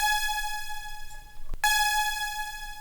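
Serum's default saw waves, stacked with many unison voices and roughly two seconds of release, ring out as a bright sustained chord that stops briefly and then returns, alone and fairly quiet.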